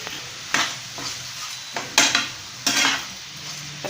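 Tomatoes being stirred and sautéed in a pan for a greens chutney: a constant sizzle broken by several loud scraping stirs of a spoon against the pan.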